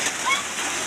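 Steady rain falls outdoors as a soft, even hiss with no break, and a few faint bird chirps sound briefly in the background.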